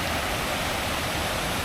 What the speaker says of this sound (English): there's a big waterfall. So there we go, nice big waterfall.